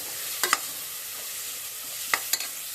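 Mutton keema with two spoons of packet chutney being stirred in a pan: two pairs of sharp spoon scrapes against the pan, one early and one late, over a faint steady sizzle, with no voices.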